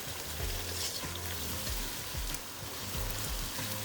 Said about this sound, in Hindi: अब मसाले को अच्छे से भून लें।